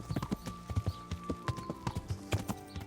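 Horse hooves clip-clopping in the medieval game Kingdom Come: Deliverance, a steady rapid walking rhythm of close hoof beats throughout, with no talk.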